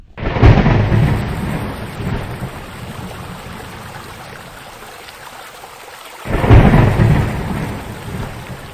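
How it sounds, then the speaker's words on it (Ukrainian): Steady rain pours down while two heavy rolls of thunder boom close by, one at the start and another near the end. "А шумові звуки це звуки природи, дощ, вітер, грім"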